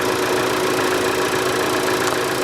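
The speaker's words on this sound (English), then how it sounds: "Yep, it's an engine." A car engine idles close by with a loud, steady, even rumble that does not change pitch, and no one speaks over it.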